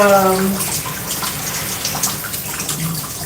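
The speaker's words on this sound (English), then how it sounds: "take the time to rinse," Tap water runs steadily while curly hair is rinsed of styling product during a wash-and-go routine, a continuous close splashing hiss at an even level with a brief voice at the start.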